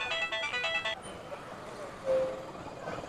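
A phone ringtone plays a bright, repeating melody for about a second and then stops, leaving quiet room noise with faint voices.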